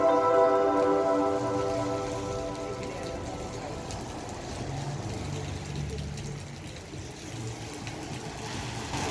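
Steady rain patters on hard surfaces, a constant close hiss with a brief musical tone fading in the opening seconds.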